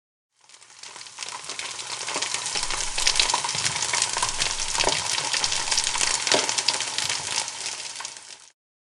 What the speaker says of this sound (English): And then fry it in boiling oil for about 45 seconds.